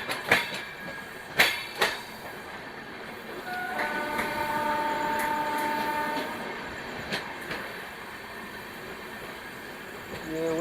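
The Dhanbad-Bhubaneswar Express train gathers speed, heard from on board as a continuous rumble with wheel clicks and intermittent clanks, while a distant horn sounds in the middle stretch.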